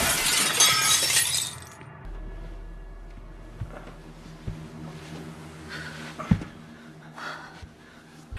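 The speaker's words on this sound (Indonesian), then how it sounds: "memecahkan kaca cermin dan mengambil serpihan kaca paling besar untuk dijadikan sebagai senjata perlindungan" A mirror's glass smashes with a loud, bright shatter at the start, then fades. Heavy breathing, scattered thumps and a low rumbling tone follow, with no talking.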